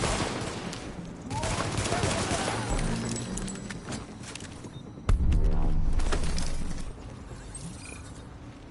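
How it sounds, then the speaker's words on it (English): Shotgun fire and other gunfire sound in a Division combat fight as loud, sharp blasts, with one heavy report standing out midway. Someone talks briefly over the gunfire. "A lot of shotguns"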